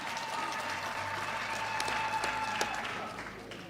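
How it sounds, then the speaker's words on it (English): An audience at a Genocide Remembrance Day gathering claps in a sustained, even burst of applause that holds steady for several seconds and carries the dense patter of many hands. "I want us to give a round of applause to that sign of unity"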